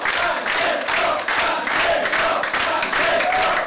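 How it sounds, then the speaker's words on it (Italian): Loud, sustained applause and cheering fill the centre-right election headquarters in Piazza del Duomo in the early morning, a dense crowd roar with steady clapping throughout. "esplode l'applauso."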